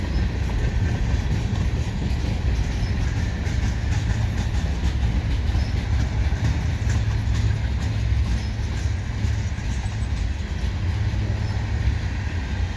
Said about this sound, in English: And a slow eastbound train.